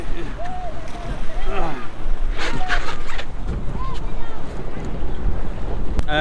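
A speedboat runs on the sea off Patenga beach in Chittagong, its motor roar mixed with heavy wind buffeting and splashing water, loud and close, with people's voices talking over it.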